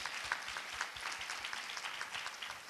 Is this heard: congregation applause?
yes